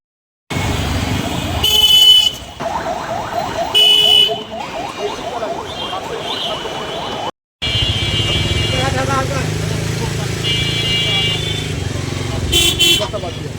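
Busy street traffic jam of battery-powered easy-bikes in Dinajpur, Bangladesh, with engines and repeated loud horn honks, several short blasts and longer toots over a steady road roar, with a brief cutout midway.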